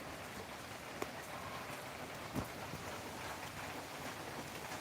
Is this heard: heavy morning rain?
yes